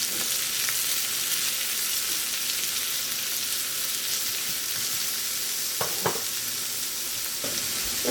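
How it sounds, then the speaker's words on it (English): Onion fries in butter and fat, giving a steady, close hiss of sizzling with a few brief scrapes and knocks as it is stirred in the pan. "Make sure the onion gets coated in all the butter and the fat"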